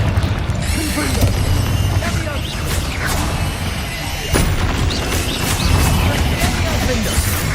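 The Confringo blasting spell detonates in Hogwarts Legacy, producing crashing booms and whooshes inside a dense, loud wash of combat effects, and a voice speaks over it.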